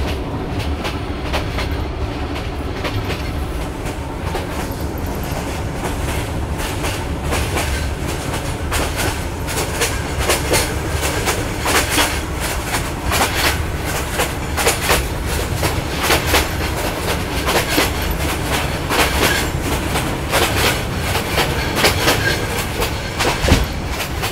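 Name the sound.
riding on a train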